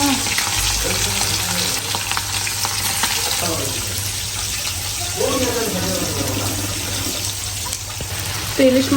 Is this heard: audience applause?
no